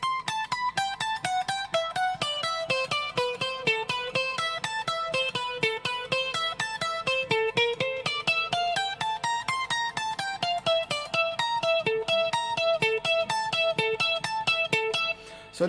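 Electric guitar without any delay effect playing a dense, fast run of plucked notes at a steady, even loudness, each attack sharp and dry, continuing for the whole stretch with no talking.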